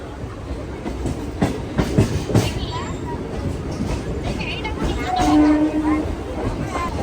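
A MEMU passenger train runs on the Palasa to Visakhapatnam line, heard from inside with rumbling wheels and rhythmic clickety-clack joints over the tracks, a few louder clunks and a brief tonal whine, with faint passenger chatter in the background.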